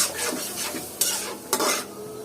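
Spice paste stir-fried in a pan with a splash of water; soft sizzling under brisk stirring, with two sharp scrapes of the spoon against the pan standing out.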